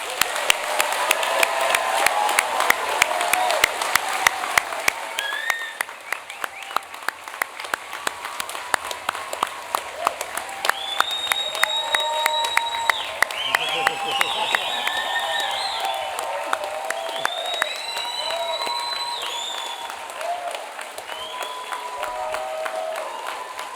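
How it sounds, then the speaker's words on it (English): A large convocation audience claps for graduates in sustained, dense applause that lasts over twenty seconds, with scattered whistles and cheers rising through the steady clapping. "could join me in a huge round of applause for our amazing graduates"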